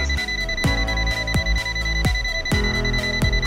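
An ANENG ST183 clamp meter's non-contact voltage alert sounds in a loud, steady repeating electronic beep, roughly one every seven-tenths of a second, close up with no talking.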